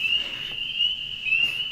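A wood frog calls at a pond, carrying a steady high tonal note that swells near the end over quiet background hiss, with no one speaking.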